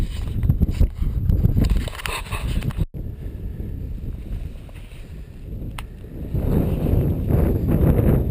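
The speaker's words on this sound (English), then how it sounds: "that wind seems to be picking up a bit" Wind gusting across the Namoko Range in the Ruahine mountains, a steady broadband roar of buffeting air against the microphone that dips briefly near three seconds and then swells again, with no voices.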